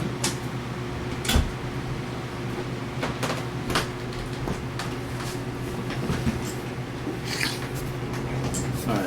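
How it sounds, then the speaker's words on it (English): A door is closed in a room during a comic book unboxing, giving a few soft knocks and a muffled thud over a steady low mechanical hum. No one speaks. "Looks like we got somebody coming in to close the door or something"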